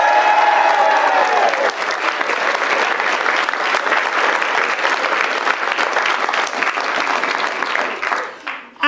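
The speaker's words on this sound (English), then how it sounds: "let me hear you clap and roar" Wedding guests at Trim Castle Hotel burst into loud, sustained clapping and cheering that fills the room for several seconds, with whoops and voices mixed into the applause before it tapers off at the end.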